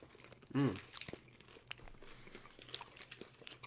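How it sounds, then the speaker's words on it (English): Thick potato chips from a big cup are bitten and crunched close to the mic, with one loud crisp bite followed by scattered smaller crunches and chewing. "Whoa, it's actually crunchy."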